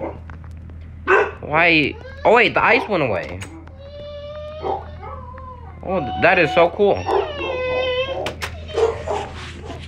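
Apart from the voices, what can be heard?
dogs barking and whining in the background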